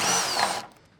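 A power tool with an 8mm socket whirs loudly at close range while removing an inner fender bolt on a 2019+ RAM 1500 pickup, a single high-pitched burst about half a second long that cuts off abruptly.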